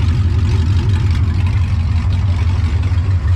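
An LS-swapped Nissan Patrol engine idles with no exhaust fitted, giving a steady, close, deep throbbing rumble that stays even from start to finish.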